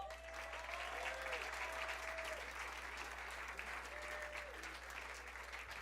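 Comedy club audience applauding steadily for a comic, a dense wash of clapping that holds throughout at moderate level with faint tonal whistles or cheers over it.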